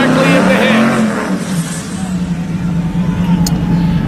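A Honda drag race car roars past at a drag racing event, its engine a loud sustained drone, with a commentator talking over it throughout.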